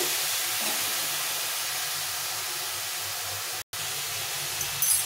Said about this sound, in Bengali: তো এইভাবে করে আমি বিটটাকে ভেজে নেব।